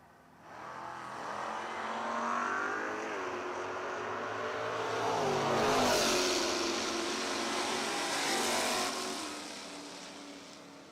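At a footbrake drag racing event, cars including a Camaro launch down the strip, engines swelling from a rising roar to a loud peak mid-pass before fading away into the distance.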